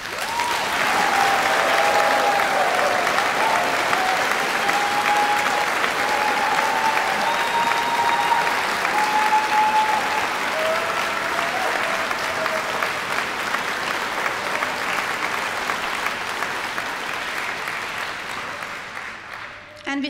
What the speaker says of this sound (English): Please, let's give him a great round of applause.